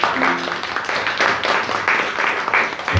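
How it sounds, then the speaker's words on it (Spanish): Congregation applauding steadily during a Spanish-language church sermon, a dense wash of clapping hands lasting the whole moment with faint voices mixed in. "dele palmas al Rey"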